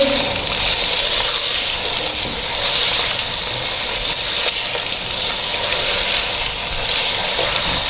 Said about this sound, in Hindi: चिकन डालने के बाद अच्छी तरह इसको मिक्स करेंगे।